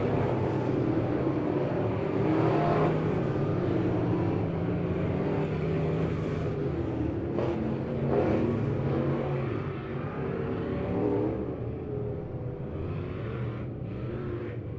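Hornet class race cars roar around a dirt oval in Lebanon on the final lap of a heat, a loud steady engine drone rising and falling as the pack passes, with no clear talk.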